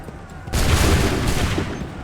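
Musket volley fire in Assassin's Creed 3: a sudden loud massed burst of many muskets firing together, followed by a sustained rumbling roar of overlapping shots.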